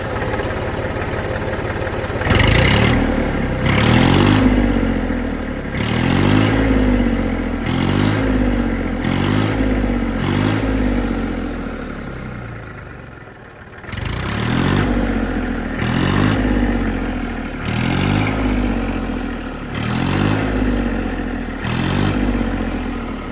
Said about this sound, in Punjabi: ਆਪਾਂ ਅੱਜ 10:35 ਦਾ ਸਲੈਂਸਰ ਬਦਲੀ ਕੀਤਾ ਆਵਾਜ਼ ਦੇਖੋ ਕਿੰਨੀ ਸੋਹਣੀ